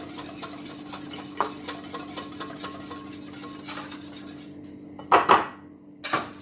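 Spoon stirring a thin mix of flour, water and tomato concentrate in a pot for Moroccan harira soup, steady scraping and clinking against the metal with a few louder knocks near the end.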